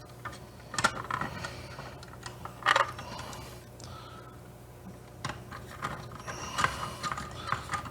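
A ratchet tightens a long bolt while assembling an INJORA IR40 RC half truck, giving bursts of quick clicking pawl ticks in short runs with pauses between, close and fairly quiet.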